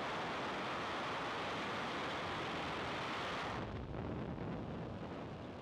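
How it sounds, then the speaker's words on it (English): A SpaceX Falcon 9 Block 5 rocket lifts off on a Starlink launch with a dense, continuous, rumbling roar that stays loud throughout and loses some of its hiss partway through, with no voices. "ignition. And lift off Falcon 9"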